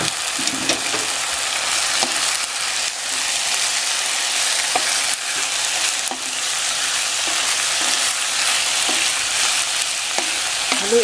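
Pork for bopis fries loudly in a pan, a dense continuous sizzle with occasional stirring scrapes, close and unbroken for the whole stretch.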